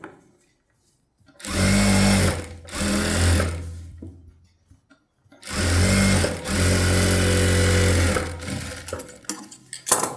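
A sewing machine runs two long bursts stitching the edge seam of a blouse lining, each steady whirring run lasting a few seconds with brief pauses between, close and loud, no talking.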